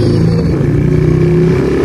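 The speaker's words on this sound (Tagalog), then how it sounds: "tayo ay nakasakay na ng motor" Loud, steady engine drone of a motorcycle being ridden on the road, heard up close from the bike with a constant hum and no voices.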